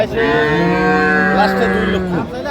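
At a rural cattle market in Dinajpur, a cow lets out a long, loud, close moo that rises and falls in pitch, with market noise faintly behind it.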